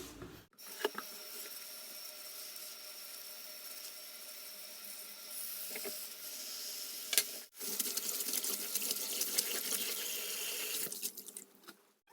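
Tap water running steadily into a sink to wash foraged dandelion greens, a continuous hiss with brief pauses and a louder surge near the end, close and alone.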